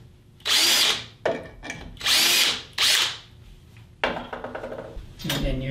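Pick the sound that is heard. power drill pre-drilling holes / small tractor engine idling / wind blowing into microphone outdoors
power drill pre-drilling holes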